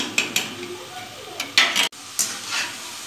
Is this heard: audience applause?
no